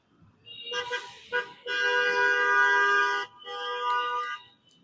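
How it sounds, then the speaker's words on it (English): Car horns honk on a street in a few tonal blasts, a short toot followed by a long sustained honk and another shorter one, fairly loud and near. "Honking."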